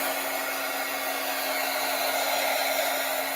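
A hair dryer blows steadily at close range on a doodle card, an even, loud whirring hum with a faint tonal whine and no voices.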